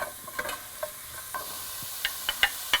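Onions softening in a pan for caponata, a faint sizzle with occasional spoon stirs and light clicks of utensil against the pan, no voices.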